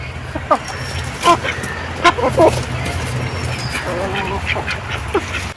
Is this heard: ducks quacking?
yes